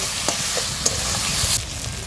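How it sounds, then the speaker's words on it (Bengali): Spice paste with chili, turmeric and salt fried and stirred in a pan with a splash of water, a loud continuous sizzle with a few sharp spoon scrapes, close up with no voices. "মশলাটা যাতে না পুড়ে যায় একটু জল দিয়ে ভালো করে কষিয়ে নেব"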